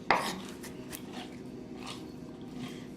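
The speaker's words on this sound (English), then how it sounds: "So we're just doing a really rough mince chop" A knife chops an onion into a rough mince on a board, with a few sparse, fairly close taps scattered over a steady low background hum.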